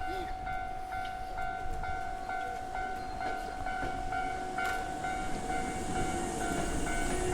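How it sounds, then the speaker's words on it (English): A train rolls past Kurakurenguchi station in Japan with a steady rumble and sustained tonal squeal from the wheels, building slightly louder toward the end. "we're going to see the train"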